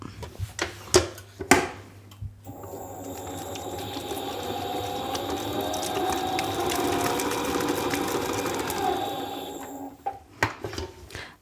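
A kitchen mixer beats eggs into a creamy pastry batter, its motor whirring steadily for several seconds between a few sharp clinks and knocks at the start and end.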